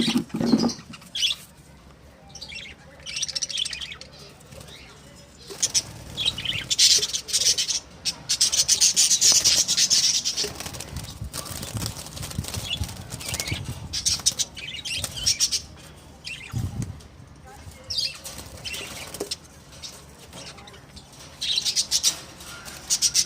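Three pairs of caged birds flutter and beat their wings as they are let out of a cage, with bursts of flapping, scuffling and rubbing against the cage and occasional squawks, close by and without speech.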